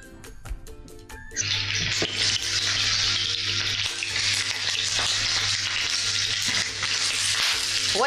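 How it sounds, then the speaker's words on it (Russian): Chicken legs fry in hot oil in a pan, giving a steady, loud sizzle that runs almost continuously, with a few scattered clinks of utensils near the start. "Наливаю на сковородку масло и обжариваю наши куриные ножки до золотистой корочки."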